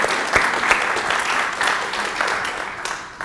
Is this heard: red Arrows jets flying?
no